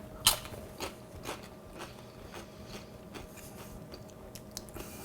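A crunchy tortilla chip topped with roasted habanero salsa is bitten, giving one sharp loud crunch followed by softer chewing crackles, close up and with no talk.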